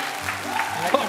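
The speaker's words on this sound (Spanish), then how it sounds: "aplaudan! A ver." A television studio audience claps briefly in a short burst, with a voice talking over the applause.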